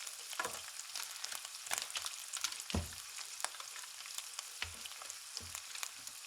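A knob of butter sizzles steadily in a pan while shallots are readied for a scallop linguine, with a constant crackling fry broken by occasional stirring knocks and scrapes.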